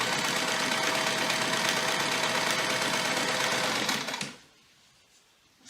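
A sewing machine stitches a pencil pouch while fitted with the wrong needle, making a steady, loud mechanical whir with rapid stitching for about four seconds before it abruptly stops.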